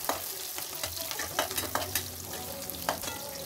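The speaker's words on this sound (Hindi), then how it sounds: "तो हम इसको फ्राई कर लेते हैं" Garlic and onion frying in oil with cumin in a pan for rajma curry, a steady sizzle with a few louder stirring scrapes, close and without talk.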